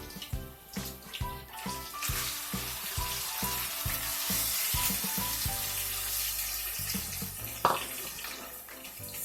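Onion paste drops into hot oil for chicken karahi and sizzles loudly up close, a dense steady crackle beneath a background of rhythmic music, with one sharp clink near the end.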